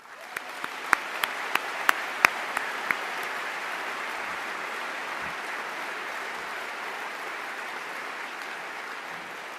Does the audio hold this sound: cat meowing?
no